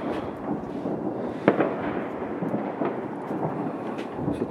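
Cheap Chinese firework rockets burst near a balcony during New Year celebrations: dense, continuous crackling and booming rolls on throughout, with one sharper nearby bang standing out above the distant roar.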